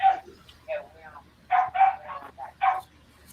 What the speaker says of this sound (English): Mike, sounds like your puppy's raising hell.